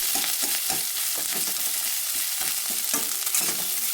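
Onions and finely chopped green chillies fry hard in hot oil in a wok for fried rice, a steady loud sizzle with scraping stirs that tap in irregularly throughout, no voices.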